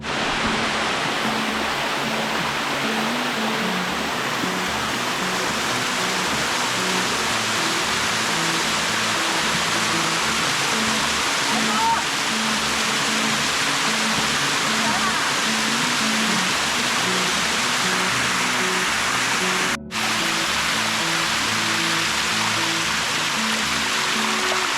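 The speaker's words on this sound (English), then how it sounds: "we're just sitting in the middle of a waterfall taking a break." Rushing water of the Sticky Waterfalls in Chiang Mai, Thailand roars steadily and loudly from close by, an unbroken broadband wash with only a tiny dip near the end.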